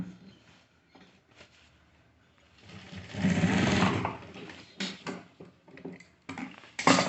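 Sewing machine stitching the seat joint of formal trousers: a close, steady mechanical whir for about a second and a half, set between quieter handling clicks and rustles of fabric.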